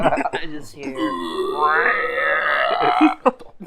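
A voice imitates a stomach growling with a drawn-out, gurgling, burp-like groan lasting a few seconds, close and fairly loud, and a few words are spoken just before it.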